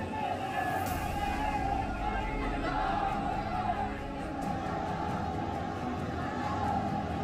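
A large funeral crowd gathered in Budaun: a steady, close hubbub of many voices chattering together, with occasional louder shouts rising out of the babble, continuing throughout.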